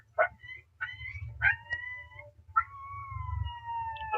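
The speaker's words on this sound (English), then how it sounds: "They're doing the loudest howl to see who's pack leader." Huskies howling in a video game, several long rising and falling howls and yelps layered over one another, with a steady low rumble of background music underneath.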